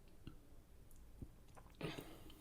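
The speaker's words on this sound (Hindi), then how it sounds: "नेक्स्ट बाइट लेते हैं और खूब चबाते हैं" Food is chewed close up, with a few soft, irregular wet crunches and mouth clicks spaced across a quiet background.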